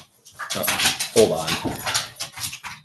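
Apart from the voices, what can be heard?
bird dog playing and panting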